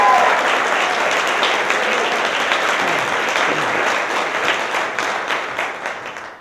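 A community service awards ceremony audience gives a loud, dense round of applause for a woman receiving her award. Close, sustained clapping fills the room and gradually thins toward the end.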